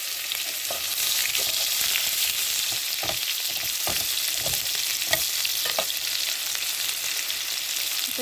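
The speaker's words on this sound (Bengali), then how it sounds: "এখন দিয়ে দেবো পেঁয়াজ কুচি" Chopped onion fries in a pan for biryani with a loud, continuous, close sizzle. Scattered scraping and stirring clicks sound throughout.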